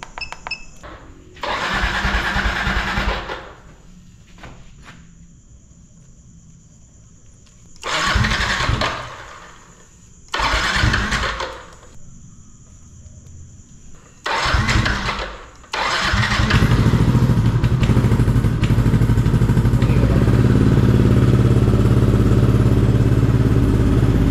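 A Yamaha NMAX scooter with a refreshed engine, R15 piston, new IAC and cleaned fuel injection is cranked in several short bursts separated by pauses, then catches and settles into a loud, steady, close idle.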